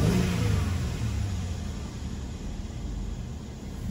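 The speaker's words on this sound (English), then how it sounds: "This vehicle is running right now." A 2014 Mercedes-Benz E350 Sport 4Matic sedan engine running steadily nearby, a smooth, quiet low rumble with a slight rev at the start, no voices.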